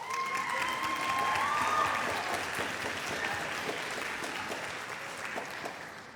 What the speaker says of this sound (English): you can clap for him when they stand up